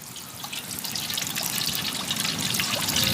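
A thin stream of cold-pressed sesame oil trickles and pours steadily into a pan, a soft continuous splashing that grows slightly fuller, with no voices.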